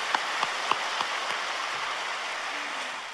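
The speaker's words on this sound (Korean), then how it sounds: "우리 하나님께 감사와 박수를 올려드립니다" A congregation at a Korean prayer-retreat worship service claps in thanks to God. After a few distinct claps at the start, the applause blends into a soft, even, rain-like patter.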